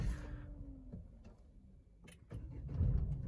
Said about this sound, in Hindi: एक सेल्फ में कार बिल्कुल स्टार्ट हो रही है,